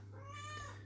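A single short cat meow, faint and slightly distant, asking for food indoors over a low steady hum.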